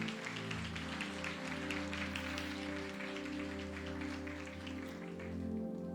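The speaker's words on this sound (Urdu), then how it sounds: "زوردار تالی بجائیں۔" An Easter church congregation claps loudly and steadily for several seconds, a dense wash of many hands over a sustained musical drone in the hall.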